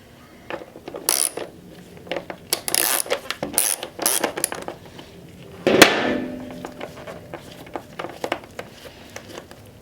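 Torx T20 screws being backed out of a Ducati Scrambler airbox, close-up clicks and ratcheting taps with small metallic clinks, sporadic across the stretch and ending in a louder scrape.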